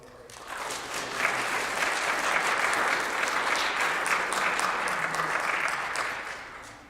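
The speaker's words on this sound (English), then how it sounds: "a huge round of applause also" An audience at a Sunday morning gathering gives a big round of applause, a dense, sustained clatter of clapping that swells up, holds steadily for several seconds and then tapers off at the end.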